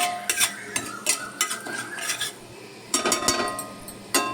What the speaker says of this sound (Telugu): ఆయిల్ 5 minutes హీట్ ఎక్కాక తాలింపు దినుసులు అవి వేసి కొంచెంసేపు వేగనివ్వాలి